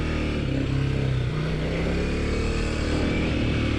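A 2024 Kawasaki KLX 300SM supermoto with a six-speed manual gearbox on a test ride, its single-cylinder engine droning close and steady as pitch rises and shifts with throttle, with no talking.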